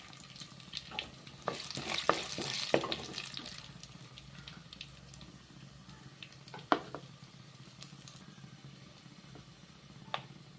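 Cumin seeds drop into hot oil for an oil brinjal kuzhambu, giving a faint sizzle with scattered crackles and a few sharp pops and stirring clicks.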